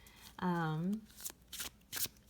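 A short hummed voice is followed by several quick riffling bursts of a small Anubis Oracle card deck being shuffled, close and crisp, with brief pauses between them.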